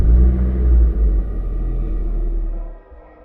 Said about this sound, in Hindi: बाहर किसी गाड़ी के इंजन की आवाज आई